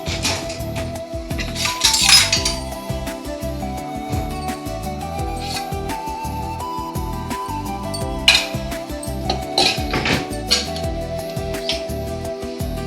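Metal cookware clanking on a kitchen stove as a pot is set down and oil and ghee are spooned in, with repeated close clinks and scrapes of utensils against steel, no talking.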